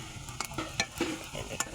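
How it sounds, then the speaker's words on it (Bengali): Fish fat and egg fried together in a pan, with a soft sizzle and several sharp stirring scrapes and clacks spread through the short stretch, close and fairly quiet. "এটা হচ্ছে মাছের চর্বি আর হচ্ছে ডিম একসাথে মিক্স করে রান্না করলাম।"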